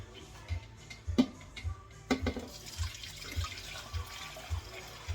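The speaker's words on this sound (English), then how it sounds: "I'm going to go ahead and pour it back through the sieve." Homemade strawberry syrup is poured back through a sieve in a kitchen, giving a soft running trickle and splashing with a few knocks, close and moderately loud.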